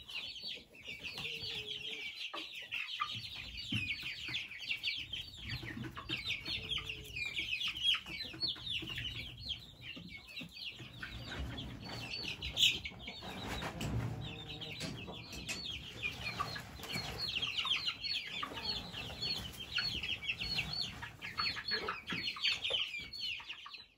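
Chickens cluck steadily in a backyard coop by a vegetable garden, with overlapping chatter from several birds running close and continuous through the whole stretch, with no talking.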